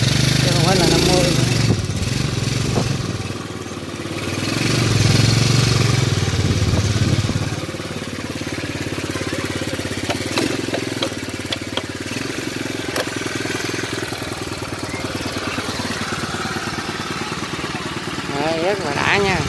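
An old Honda Cub motorcycle bored to 72cc idles with a steady mid-pitched putter, swelling briefly in a short rev before settling back, heard under close talk.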